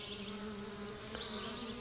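Honeybees buzzing in a dense, continuous drone, many wings humming together close by with a steady pitch.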